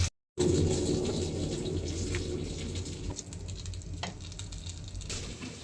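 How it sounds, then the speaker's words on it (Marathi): Mackerel fry on a hot griddle in a Konkani-style home kitchen, giving a steady, dense sizzle with faint crackles that runs close and unbroken after a brief dropout at the start. "मम्मीने तव्यावर हे बांगडे पण असे टाकलेत मस्त फ्राय व्हायला"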